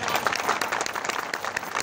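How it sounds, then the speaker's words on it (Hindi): Audience applause at a Hindi poetry recital (kavi sammelan), a dense, steady patter of many hands clapping close by for the whole stretch, with faint crowd noise underneath. "जोरदार तालियों से"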